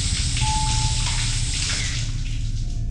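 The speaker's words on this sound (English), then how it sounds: "We're gonna spray on the shower." A shower runs in the Scary Child video game, giving a steady, close rush of water with a faint tonal whine threaded through it.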